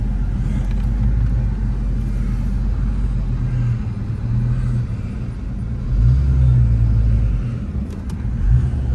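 A Volkswagen Fox engine runs with a new radiator and silicone hoses fitted, giving a heavy low rumble that swells slightly twice as if revved. It is close and steady, with no speech.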